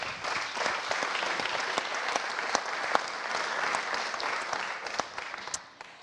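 A church conference audience gives sustained, even applause to welcome a speaker, steady clapping from a sizeable crowd filling the room for about six seconds.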